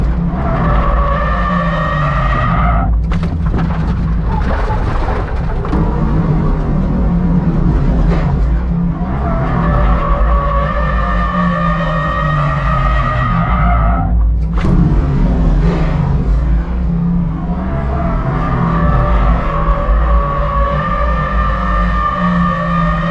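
A Mazda MX-5 NC spins out after a mis-shift into first gear, its tires squealing loudly in long, wavering skids over a roaring, revving engine, with brief breaks between the screeching bursts.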